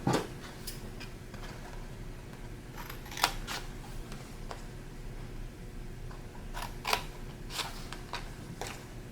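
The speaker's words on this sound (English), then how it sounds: "I'm going to follow the folded line and make these 4 cuts." Scissors snip through folded paper in a few brief, crisp cuts spaced across a quiet background, soft and close, with light handling rustles between them.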